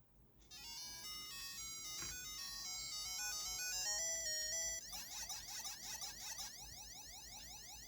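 Bright electronic chiptune melody from a Game Boy Advance, beeping harmonics with fast arpeggios and a rising sequence, loud and steady throughout, no voices.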